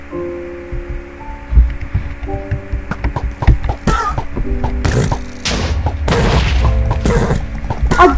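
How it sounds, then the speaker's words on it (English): Bomb explosions in Minecraft, a battle of repeated booming thuds and rumbling blasts piling up over a low droning hum, growing denser and louder in the second half. "Explode the bomb. It's a bomb battle."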